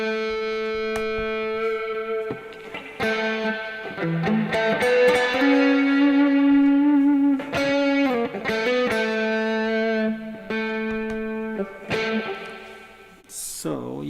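An electric guitar is played through a Zoom G1xOn blues patch with spring reverb, giving sustained distorted notes and chords with a reverberant tail in loose phrases, loud and alone.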